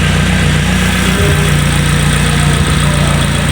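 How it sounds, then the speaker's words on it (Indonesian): Steady, close engine idle from a Toyota Avanza / Daihatsu Xenia during a 30,000 km service check, a constant low hum with even mechanical texture and no talk. "Kita dengarkan suara mobil."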